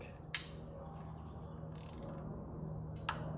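A torque wrench set to 5 Nm gives sharp, close clicks while tightening an e-bike throttle on a 79Bike Falcon Pro, with a few separate snaps and some ratcheting in between over a quiet room tone.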